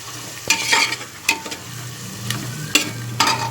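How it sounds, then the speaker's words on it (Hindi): Red chili powder and onions frying in a pan, with a low steady sizzle under intermittent scraping and stirring strokes of a spoon, close and fairly loud, no talking. "और अब हम इसे प्याज के साथ भून लेंगे"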